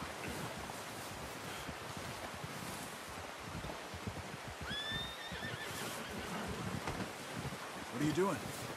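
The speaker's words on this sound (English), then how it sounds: "I'm gonna get this packed on my horse." A horse in the Western video game Red Dead Redemption 2 lets out a whinny over steady wind and ambient outdoor noise, with a second, louder neigh near the end.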